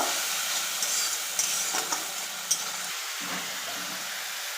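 Spice paste stirred with a little water in a hot pan, giving a steady soft sizzle and hiss with a few faint scraping clicks of the spoon, close and continuous throughout.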